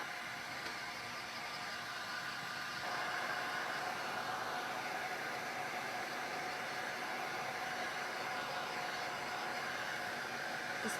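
A hair dryer set on a low setting blows steadily over a pallet board craft, giving a continuous airy whoosh that holds fairly even for the whole stretch with no talking.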